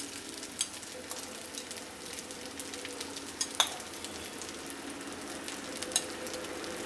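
Leftover cooked rice goes into a hot pan for mixed fried rice and sizzles steadily, with occasional sharp clinks and scrapes of a spatula as it is stirred.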